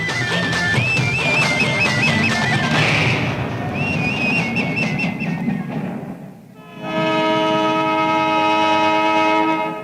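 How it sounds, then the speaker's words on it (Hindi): Train departing in a Hindi-dubbed romantic action film, with a steady rumble of rail cars, a wavering horn early on, then a long sustained horn chord sounding loud and close over the continuous rolling noise. "ट्रेन छूट रही है"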